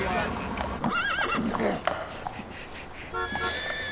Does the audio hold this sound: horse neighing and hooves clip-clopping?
yes